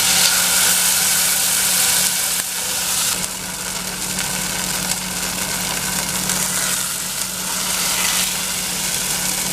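Tofu fries in oil in a pan, giving a continuous, close sizzle with a low steady hum underneath and no talking.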